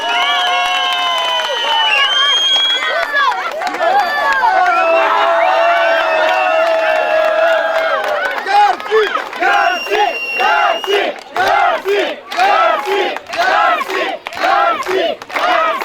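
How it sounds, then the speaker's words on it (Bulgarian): Loud crowd at a henna-night wedding celebration in Tutrakan cheering and whooping for the boys, with shouts and whistles throughout, breaking into rhythmic clapping in the second half. "Аплодисменти за момчетата!"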